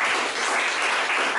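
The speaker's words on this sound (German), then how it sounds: "an dieser Stelle meinen Applaus" Audience applause at a live stand-up comedy show, a dense even wash of clapping from a crowd, fairly loud and steady for a moment with no voices over it.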